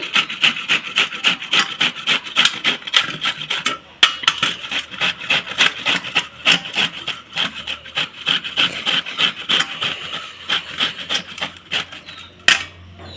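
Peeled shola taro root is rubbed against a hand grater in a steady run of rapid, rasping back-and-forth strokes, close and fairly loud, with only brief pauses.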